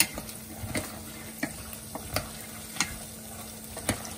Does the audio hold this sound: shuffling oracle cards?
no